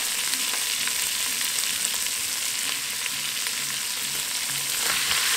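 Sliced calabresa sausage rounds and a spoonful of garlic fry for white bean stew, making a dense, even, bright sizzle that stays close and steady throughout, with a few faint stirring taps and no talking.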